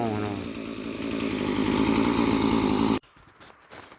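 A loud chainsaw engine that would not switch off normally roars steadily for about three seconds, then cuts off abruptly, leaving faint rustling and background noise.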